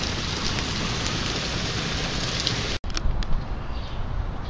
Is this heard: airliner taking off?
no